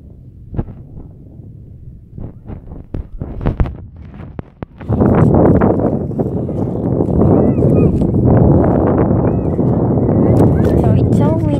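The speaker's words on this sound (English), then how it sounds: "So it's so windy" Gusty wind roars loudly across the microphone after a few seconds of scattered clicks and knocks, then stays as a steady, buffeting rush to the end.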